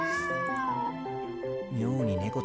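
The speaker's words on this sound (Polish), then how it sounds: "Koty mają ruje." Loud, wailing caterwauls from cats in heat in the video game How To Take Off Your Mask, long bending meows layered over a plodding melodic tune.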